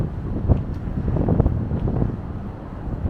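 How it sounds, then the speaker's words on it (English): Strong wind buffets the microphone outdoors on a Boston street, a continuous loud low rumble with gusty surges and no speech. "It is really windy here."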